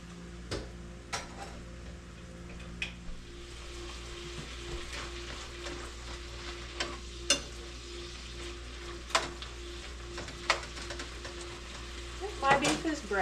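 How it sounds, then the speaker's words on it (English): Beef browning in a pot for barley soup gives a steady soft sizzle, with occasional spoon clicks and stirring scrapes, close but quiet and with no talking. "So I will start this while my beef is cooking."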